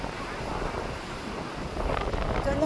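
Strong wind buffets the microphone at a playground, a steady broadband roar that swells louder toward the end, with faint voices in the background.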